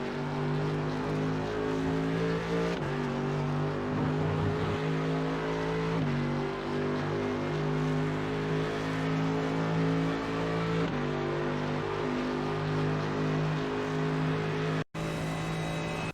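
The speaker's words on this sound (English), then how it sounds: "You want to take the whole exit with full throttle to maximize your speed on the straight" Mercedes AMG GT3 race car engine in iRacing at Monza, held at full throttle with a steady loud drone and harmonic whine, rising in pitch through gear changes, with a brief cut near the end.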